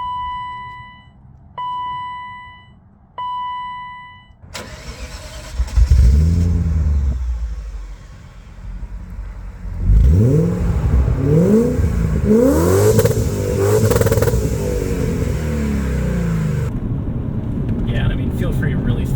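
A BMW C34 car is started after a few warning chimes, then pulls away with loud rising engine revs and repeated accelerations, its close engine note droning on while someone speaks.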